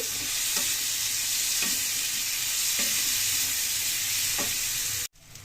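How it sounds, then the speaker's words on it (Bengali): Potatoes frying in hot oil in a wok, a loud constant sizzle with a few soft stir strokes spaced about a second apart, close up, ending in a brief cut. "এবার আমি আলুগুলো ঢেলে দেবো এর মধ্যে। আলুগুলো ঢেলে দিয়ে একটু নাড়াচাড়া করবো"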